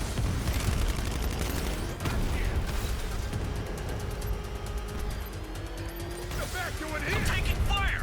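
Gunfire during a vehicle chase in Batman: Arkham Knight: sustained rattling bursts of automatic fire over a rumbling engine, with scattered impacts and crashes and a voice talking over parts of it.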